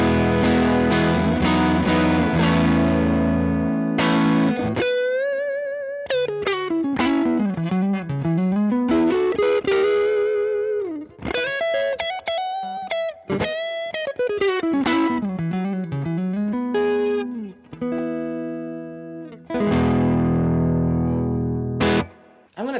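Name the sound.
guitar through Donner Dumbal Drive overdrive pedal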